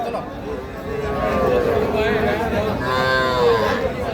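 Cattle at the Raniganj cattle market moo twice in drawn-out, loud nearby calls, one after another, over a steady murmur of crowd chatter and people talking.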